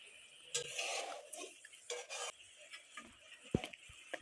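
A spoon stirs yogurt through a pan while duck egg curry cooks, giving soft scraping and rubbing strokes with a few sharp metallic knocks against the pan, quiet and close, with no voices.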